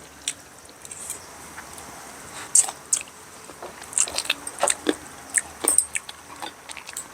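Crispy grilled pork face is bitten and chewed along with fresh vegetables, close crunchy bites and chomps coming in irregular bursts over quiet surroundings.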